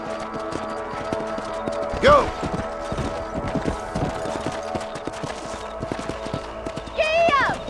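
Horse hooves clip-clop steadily at a gallop in the Western video game Red Dead Redemption, with a couple of neighs and brief talk over the rhythmic hoofbeats.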